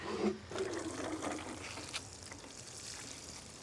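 Collected rainwater pours onto cherry tomato plants in a dry backyard, making a soft, steady splashing trickle that stays faint and continuous with no talking.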